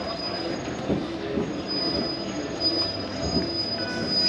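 Tourist road train riding through Valletta, Malta, a steady loud rumble of wheels and engine with a persistent high metallic squeal running throughout, no talking.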